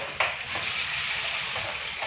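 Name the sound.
potatoes frying in a pan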